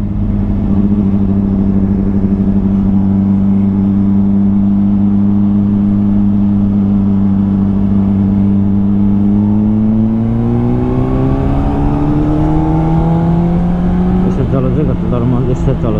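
A sport motorcycle engine drones loudly and steadily during a ride, likely a Honda CBR600RR or Kawasaki Ninja ZX-25R, holding a constant pitch and then rising as it accelerates near the end, with wind noise close by.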